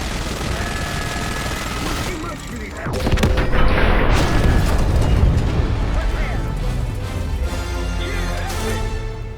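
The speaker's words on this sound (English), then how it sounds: "Blew up their scud and there's no one left to care." An enemy Scud launcher blows up in Call of Duty Black Ops 6 with a heavy, booming explosion, followed by rumbling debris and scattered gunfire, loud and close, while voices talk over the action.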